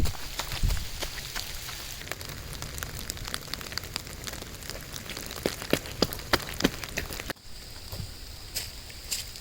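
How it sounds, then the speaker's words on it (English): Rain falling in a comedy skit, a steady soft patter of drops on a surface with scattered sharper drips, fairly quiet and continuous with no voices. "let's just go back home. It's raining."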